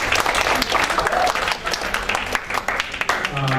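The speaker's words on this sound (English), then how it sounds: "Please Give applause for Dr." Seminar attendees at an information systems project management event clap to welcome the next presenter, a brief busy patter of many hands at moderate loudness.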